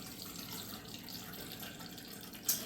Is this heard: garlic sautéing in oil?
no